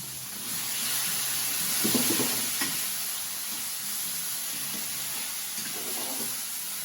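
Sambal oelek fresh ground chili paste sautés in a pan with a steady, soft sizzle, joined by a few light stirring scrapes and clinks, at a low, even level with no talk.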